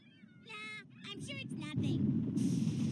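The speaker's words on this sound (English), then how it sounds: "Seagulls?" Cartoon seagulls in an animated show squawk in a quick run of bright, harmonic cries, several short calls in a row over background music and sound effects.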